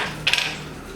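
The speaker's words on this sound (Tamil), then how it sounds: "இப்போ எடுத்து வச்சுருக்க பட்டையை போடுறேன்" Cinnamon bark dropped into hot ghee in a pressure cooker for chicken biryani gives one short, sharp sizzling clatter over a low kitchen hum.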